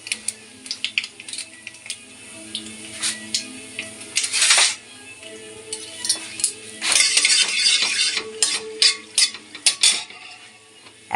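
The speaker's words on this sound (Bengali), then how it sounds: "দুটো কালো জিরে আর একটা শুকনো লঙ্কা ফোড়ন দিয়ে দিলাম" Black cumin seeds and a dry red chilli tempering in hot oil, close crackling bursts mixed with metallic clinks and scrapes of a utensil against the pan, uneven and loud at moments.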